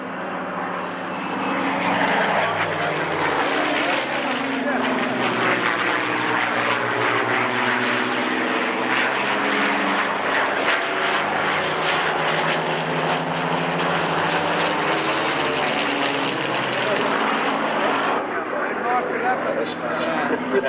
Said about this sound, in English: Is now split into a pair of Mark 9s flown by Ray Hanna and Nigel Lamb